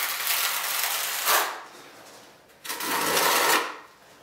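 A notched trowel is dragged through thinset mortar spread for cork underlayment. It gives two long, close scraping passes with a pause between them.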